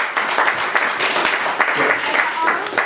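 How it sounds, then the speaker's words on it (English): Live audience applause at a hip-hop show, a dense wash of clapping that holds steady for a few seconds, fairly loud and close. "Clap it up for the all right now"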